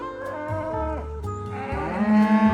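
Cattle lowing repeatedly as a herd is driven back toward the pens, several deep drawn-out moos overlapping close by, one long low call running into a higher, louder bellow near the end.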